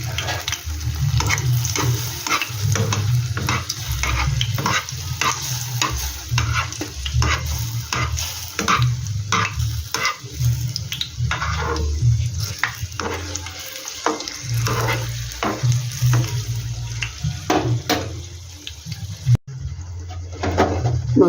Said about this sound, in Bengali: দেখো একইভাবে বাকিগুলো কিন্তু আমি ভেজে নেব।